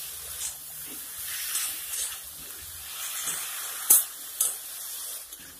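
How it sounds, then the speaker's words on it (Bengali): Eggplant being stirred in a pan with chillies, salt and turmeric, giving a soft continuous sizzle broken by a few scraping stirs and two sharper clacks near the end, fairly quiet and close. "এখন সবগুলি উপকরণ ভালোভাবে মিশিয়ে নিতে হবে।"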